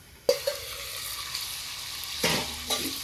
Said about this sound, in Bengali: অল্প ভেজে দিই।